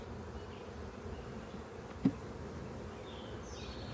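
Queenless honey bees fan and buzz in an apiary hive, a steady low drone with one brief soft knock partway through and no voices.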